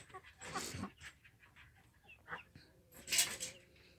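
Hens wander a free-range chicken farm, giving scattered soft clucks and brief calls at low level, with a louder burst of activity near the end and quiet farmyard background between.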